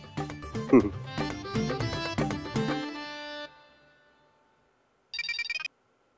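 Ringtone of an incoming call on a phone, a short bright electronic burst heard alone after the preceding music and talk fade out.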